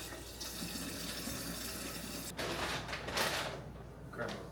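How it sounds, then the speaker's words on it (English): Tap water runs steadily into a sink while a cup is rinsed, a close, continuous splashing flow with a few brief clatters and shifts in the stream. "Gotta wash my cup."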